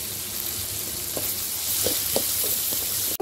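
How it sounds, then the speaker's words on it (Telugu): Tomato and green chili paste fries in a pan with a steady broadband sizzle, broken by a few soft clicks as it is worked around. It sounds close and fairly even, with no voices. "ఇది కూడా వేసి బాగా వేయించుకోవాలి."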